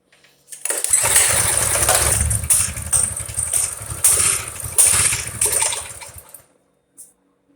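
Coleman BT200X minibike engine cranks and catches on the first pull, then runs loud and close with a rough, fluttering idle for several seconds before cutting off, no talk over it.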